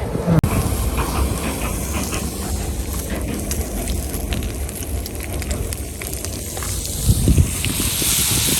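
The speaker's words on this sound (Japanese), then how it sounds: "電車通るね。" A train passing near an outdoor camp lunch spot by a campfire, a sustained rumbling roar with hiss that swells slightly toward the end and carries no talk.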